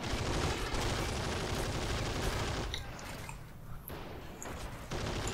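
MG34 machine gun firing steadily in the WWII strategy game Men of War: Assault Squad 2, a dense continuous rattle of bursts amid battlefield noise, thinning briefly midway before the loud fire picks up again.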